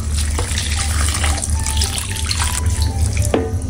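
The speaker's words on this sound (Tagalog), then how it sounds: "Ako po ay magdadagdag po ng tubig." Steady rush of water pouring from a tap into a cooking pot of santol in coconut milk, continuous and close, with a few faint clinks near the end.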